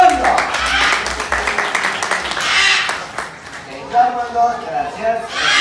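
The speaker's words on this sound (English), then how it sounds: "Ladies and gentlemen, big applause." Scattered clapping from an audience at a parrot show rises and fades amid a presenter talking, with brief bird calls and crowd chatter mixed in.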